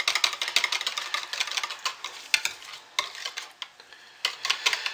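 Chocolate soap batter is stirred by hand in a container, giving a steady run of soft scraping, sloshing strokes up close with a few sharper knocks and no talking.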